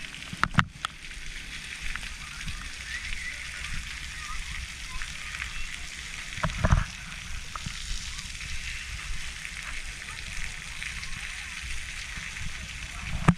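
Warm water sprays and splashes steadily at a quiet kids' water park on Half Moon Cay, a continuous hiss with occasional nearer splashes while people talk nearby.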